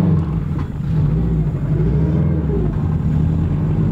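A Subaru with a bad clutch pulls away down the street, a close, steady low engine rumble that rises slightly as it moves off, with no voices over it.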